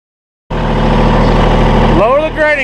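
A tractor pulls a RhinoAG GS60 grading scraper with its scarifiers in the ground over hard-packed road, its engine running as a steady loud rumble that starts abruptly, with rising whine-like tones near the end.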